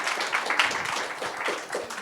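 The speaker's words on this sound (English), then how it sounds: "one more round of applause for Jan." Audience applause following a talk at a consciousness science conference, a dense patter of many hands clapping close and steady for a couple of seconds with no speech.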